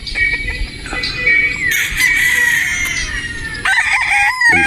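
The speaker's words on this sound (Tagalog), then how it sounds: "Ganda manok." A rooster crows loudly and close by, with the long call rising and holding, while other fowl cluck and crow in a busy farmyard background.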